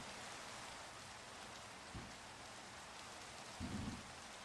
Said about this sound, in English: There's rain.